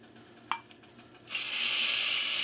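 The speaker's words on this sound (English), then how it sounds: "and that sizzle confirms it, nice and hot" A hot pot sizzles loudly as bacon hits it, a sudden bright steady hiss starting after a short quiet stretch with one faint tap, continuing evenly to the end.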